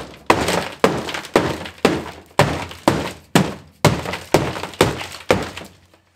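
A rubber mallet bangs repeatedly on a Honda Civic's metal floor panel to loosen dry-ice-frozen sound deadening: about a dozen sharp, evenly spaced cracking thunks, loud and close, each decaying quickly before the next.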